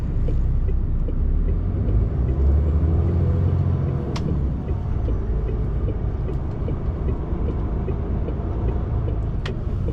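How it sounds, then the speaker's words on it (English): Traffic rumbling along a busy road beside a parked truck, a continuous low roar of passing vehicles with a couple of sharp brief hisses, no talk. "It's quite a busy road, this bit here"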